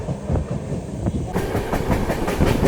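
A train rumbles steadily along the tracks with rhythmic clickety-clack beats, loud and close, a continuous rolling roar without voices.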